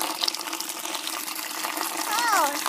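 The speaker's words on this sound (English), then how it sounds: "Where does the water come from, Olivia? Does it come from in here" Water runs from a tap as a steady broadband rush beneath a child-directed adult voice, with a brief higher gurgle or squeal near the end.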